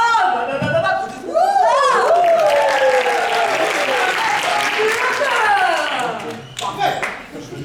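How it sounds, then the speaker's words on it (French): An audience applauds a magician at an improv match quarter-final in Paris, a dense, sustained clapping under a loud, swooping voice. "merci d'applaudir notre magicien ce soir"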